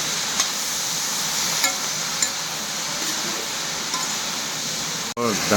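Vegetable curry of lentils and potato, seasoned with salt and coloured spice powder, sizzles steadily in a pan, with a few soft utensil clinks and a brief voice near the end.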